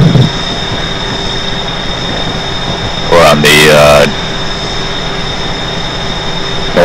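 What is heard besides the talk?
old passenger train running on the Northeast Corridor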